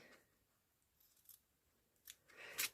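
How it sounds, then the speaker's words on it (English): Scissors snip off the end of a handmade paper Christmas tag, a few quiet, close, crisp cuts toward the end of an otherwise hushed moment. "And then I'm just going to cut that end off there."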